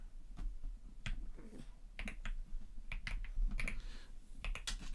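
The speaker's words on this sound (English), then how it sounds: "I'm typing Canon EOS R5 Mark II." Fingers type on a computer keyboard close by, quiet and uneven, with clusters of sharp key clicks broken by brief pauses and no voices.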